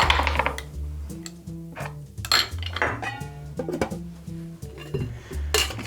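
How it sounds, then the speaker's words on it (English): Ice rattles hard inside a cocktail shaker during an apple pie margarita, a fast, steady run of loud metallic clinks and knocks lasting several seconds. "We're going to add some ice and we're going to shake this for a good 10 to 15 seconds."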